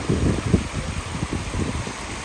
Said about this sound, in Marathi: तर हा खाली वॉटरफॉल बनतोय